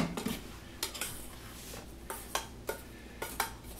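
Graham cracker crumbs and sugar scraped and stirred together in a bowl for a peanut butter pie crust, a series of light, close clinks and scrapes at an irregular rhythm with no talking.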